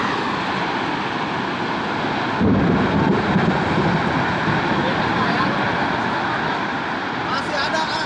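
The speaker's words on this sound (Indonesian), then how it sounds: "Angin puting beliung di Kahatek." Strong whirlwind tornado wind in Kahatek near Bandung, a loud continuous roaring rush that swells midway, with people talking over it.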